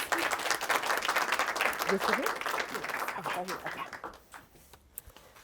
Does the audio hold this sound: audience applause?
yes